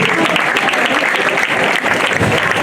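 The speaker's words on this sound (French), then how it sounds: "On applaudit bien fort Lizzie, s'il vous plaît." A dense, steady wave of applause from a large audience at an amateur singing contest, many hands clapping together at once with no break.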